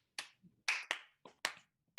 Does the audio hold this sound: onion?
no